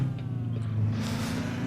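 A Kenworth K100 truck with a Detroit engine in American Truck Simulator idles with a steady, deep, even drone throughout.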